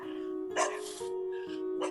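Dogs barking in a busy neighborhood, a few sharp bursts at moderate distance over a steady tonal hum.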